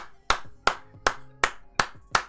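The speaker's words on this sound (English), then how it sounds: "Clap it up for that guy." Six sharp, evenly spaced hand claps ring out at a slow steady pace, close and crisp with no other sounds around them.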